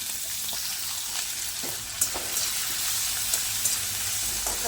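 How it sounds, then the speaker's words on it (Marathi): Cumin seeds, finely chopped green chili and grated ginger sizzle and fry steadily in hot oil in a pan, a continuous close crackling hiss with a few sharper pops and no talk. "आता यामध्ये एक चमचा जिरं घालून घेऊया जिरं छान असं फुलायला सुरुवात झाली की यामध्ये ना बारीक कट केलेली हिरवी मिरची घालायची"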